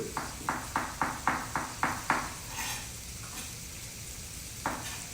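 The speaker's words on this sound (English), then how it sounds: "The onions, you can see that they are cooking now." Onions frying in a pan in a live cooking session, with a run of quick rhythmic scraping stirs under a soft steady sizzle, then quieter sizzling and one more stir near the end.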